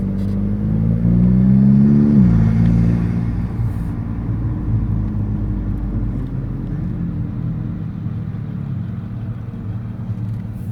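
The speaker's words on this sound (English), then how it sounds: "We're moving into the parking lot here. We can't go too fast, but you can hear my exhaust." A VW GTI MkV pulls away slowly across a quiet parking lot at night, its exhaust swelling into a brief throaty rise before settling into a low, steady rumble.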